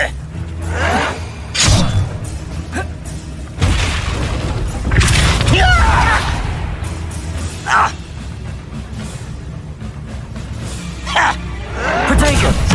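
Spell blasts and booming impacts go off repeatedly during combat in the Hogwarts Legacy video game. The bursts are loud and punchy, with whooshes between them and a voice shouting over the action.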